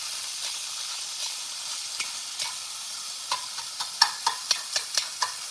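Food sizzles in a frying pan under a constant bright hiss while a utensil stirs and taps, the scraping clicks growing into a quicker regular series toward the end.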